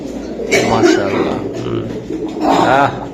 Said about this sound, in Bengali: তাড়াতাড়ি একটু কবুতরটা আমি একটু দেখাই